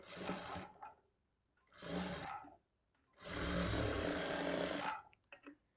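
Sewing machine stitching a lining blouse, running in three loud close bursts of rapid mechanical whirring separated by short pauses, the last burst longest, with a few small clicks after; no talking.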